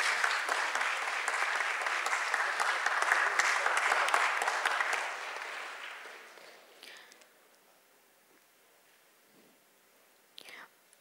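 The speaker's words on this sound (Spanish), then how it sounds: "Por favor, un fuerte aplauso para la maestra." A crowd applauds loudly for about five seconds, then the clapping fades away to near silence with a few scattered sounds.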